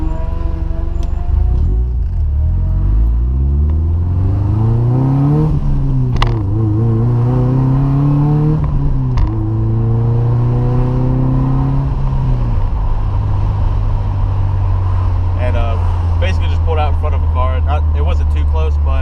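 A Subaru Impreza 2.5RS (GC8) with a single-cam engine accelerates hard, its loud engine note rising through the gears with clear pitch sweeps and shift drops, steady throughout and heard from inside the car.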